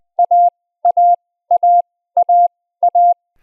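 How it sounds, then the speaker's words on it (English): Pure sidetone beeps spell the Morse letter A, dot then dash, five times in a row at a steady 20 words-per-minute rate with tighter spacing than before, crisp and isolated with no voice. "Keep saying the sound of alpha along with the sound."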